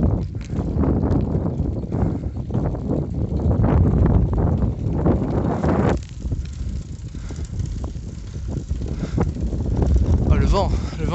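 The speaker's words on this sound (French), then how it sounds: "Oh le vent qui se lève." Wind rising during a summer thunderstorm in Brittany, gusts buffeting the microphone in a rough, rumbling roar that swells and eases, with voices talking over it.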